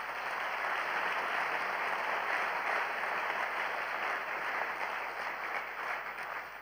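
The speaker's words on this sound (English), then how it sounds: "Give him a round of applause, please." Sustained audience applause fills a community talk in Mitchell's Plain, a dense, steady wash of many hands clapping at even loudness throughout with no voices above it.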